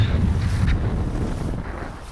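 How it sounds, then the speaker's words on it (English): Wind on a beach buffets the microphone in a steady low rumble, with a gusty roar throughout and no other clear sounds. "It's windy."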